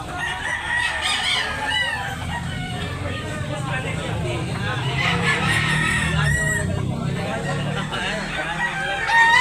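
Roosters crow and chickens cluck at a cockfighting gamefowl market in Talisay, Cebu, a dense, busy din that fills the clip with overlapping calls, while people talk nearby throughout.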